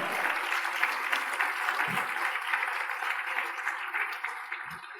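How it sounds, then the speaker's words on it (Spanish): A church congregation gives the Lord a loud, steady round of applause, dense continuous clapping that fills the room throughout and tapers slightly at the end. "Dele fuerte esa ofrenda de palmas al Señor"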